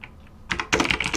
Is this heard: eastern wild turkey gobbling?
no